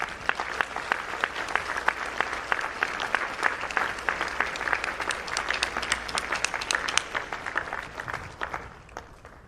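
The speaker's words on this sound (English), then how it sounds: "I would like for you all to give her a round of applause." Guests at an amateur sports awards luncheon give a warm round of applause, many hands clapping steadily and fairly loud for nearly ten seconds, with a few sharper individual claps standing out before it tapers off.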